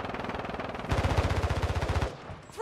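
Automatic rifle fire in Call of Duty: Warzone 2.0 Resurgence, likely from a Kastov 545: a rapid, steady burst of close, loud shots lasting about a second, followed by a brief lull and a sharp electronic sound effect.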